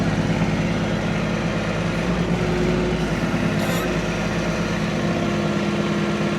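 Hightop HT15 Pro budget diesel mini excavator swinging around with its dozer blade down, its diesel engine running in a steady low chugging drone up close, with faint mechanical whines over the top and no talking.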